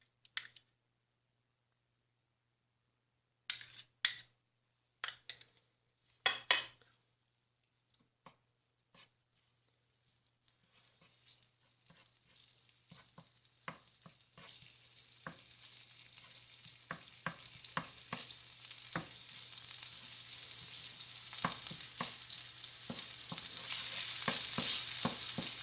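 Garlic fries with broad beans in olive oil in a pan, starting with a few sharp clatters, then a soft sizzle that slowly builds into a steady, crackling fry, with no talk.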